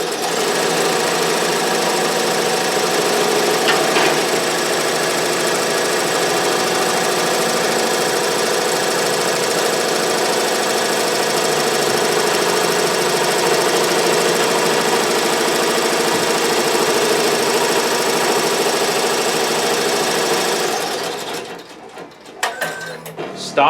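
An Avancé embroidery machine runs steadily up close, its rapid mechanical stitching whirr holding constant as it sews an applique outline, then stopping abruptly near the end.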